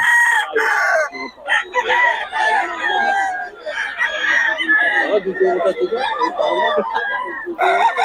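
Roosters at a crowded chicken market in Bocaue crow over and over, loud and close, mixed with clucking and the steady chatter of people talking.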